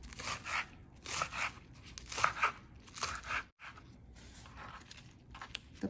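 A knife chopping spinach leaves finely on a board makes repeated crisp crunching cuts in quick uneven bursts, close up and without talk.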